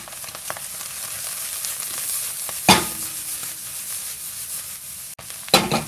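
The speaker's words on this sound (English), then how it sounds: "Let's give this a little stir." Black trumpet mushroom, bacon and onion jam sizzling steadily in a pan, with a couple of brief scraping stirs cutting through the constant frying hiss.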